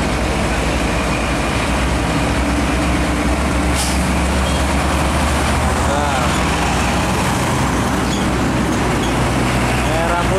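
A tanker truck rolls past on the Pantura coastal highway near Tegal, its loud engine rumble filling a dense traffic roar with an air-brake hiss, while other heavy vehicles pass by.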